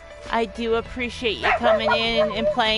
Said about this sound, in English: I do apologize for the dog barking in the background